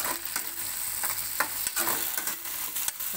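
Onions and tomatoes frying and being stirred in a pan, a steady close sizzle broken by several sharp scraping stir strokes, with no talking.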